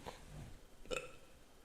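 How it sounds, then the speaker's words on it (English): A small, soft burp sounds once near the start, followed by a short faint click-like hiccup of noise, all fairly quiet in a calm indoor room with no talking. "That was a little baby burp."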